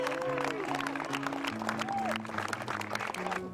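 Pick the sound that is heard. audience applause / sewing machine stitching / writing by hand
audience applause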